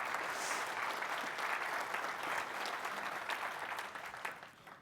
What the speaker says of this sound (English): Let's thank all those sponsors with a quick round of applause.